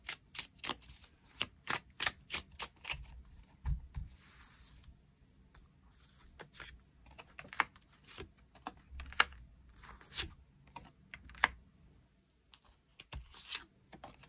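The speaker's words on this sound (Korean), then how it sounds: "카드 뽑아보도록 하겠습니다" Tarot cards being shuffled close up, a quiet run of crisp, rapid riffling and slapping bursts in irregular clusters, with no talking.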